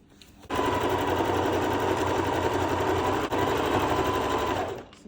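A Jo Ann 200 HDT heavy-duty sewing machine starts up and stitches for about four and a half seconds, a fast, even mechanical whir close by with one brief dip, alone without speech.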